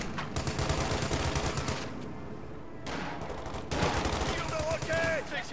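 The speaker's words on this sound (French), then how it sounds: "en faisant comme ça avec un Browning, vous pouvez faire des tirs de suppression en fait" Browning machine gun laying down suppressive fire in the World War II strategy game Company of Heroes 2, with dense, continuous rattling bursts and distant gunfire filling the clip, a brief lull midway, and game voices talking over it.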